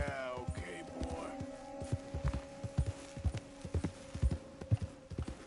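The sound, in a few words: horse hooves in Red Dead Redemption 2 video game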